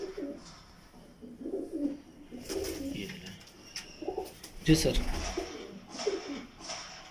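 Pigeons coo in low, soft bursts nearby, with someone briefly speaking amid the cooing and some rustling.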